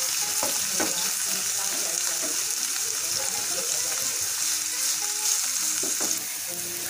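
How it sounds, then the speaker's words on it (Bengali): About a cup of chopped onions fries in a pan previously used to fry chicken. A close, continuous sizzle carries on throughout, with light stirring scrapes. "যে প্যানে আমরা চিকেনগুলো ফ্রাই করেছিলাম সেখানে পেঁয়াজ 1 কাপ পরিমাণ পেঁয়াজ কুচানো ফ্রাই করে নেব"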